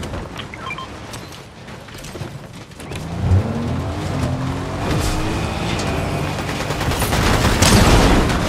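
A car drives in the video game Fortnite, its engine droning and rising in pitch with bursts of gunfire and impacts layered over it, growing louder and busier toward the end.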